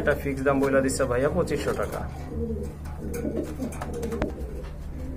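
Kashmiri racer pigeons, a pair offered at a bird market, coo softly in low repeated notes beneath a man's close speech about price.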